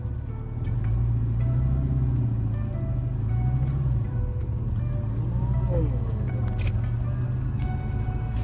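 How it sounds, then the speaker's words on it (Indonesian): A Morris Mini Rover's engine revving steadily as the car pulls away slowly on half clutch, a loud continuous motor drone with rising and falling pitch. "Pelan-pelan lepasnya sambil setengah kopling gitu. Mainin gas."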